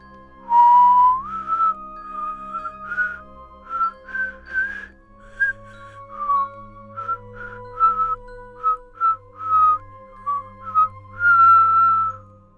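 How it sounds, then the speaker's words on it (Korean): Someone whistles a slow, clear melody alone, note after note with short pauses, close and fairly loud. "휘파람은 언제나 같은 멜로디였다."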